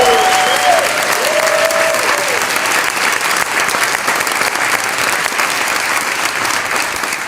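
An indoor audience at a college address claps loudly and steadily for three award recipients, dense sustained applause with a few voices and brief cheers mixed in near the start.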